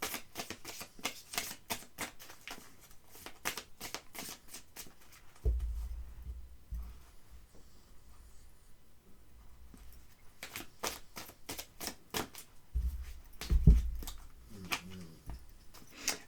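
Oracle cards being shuffled by hand, rapid papery riffling bursts in two spells separated by a quieter pause with a few soft thumps, close and fairly clear.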